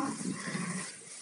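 Sheep and lambs bleating in a farm pen where ewes have just given birth, several overlapping calls close by, steady and moderately loud with no talk.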